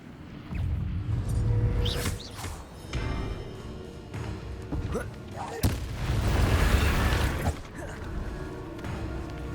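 A fire spell cast in the Hogwarts Legacy video game bursts out as a deep rumbling whoosh with booming low thuds, swelling twice over several seconds amid other game sounds, with a voice speaking along.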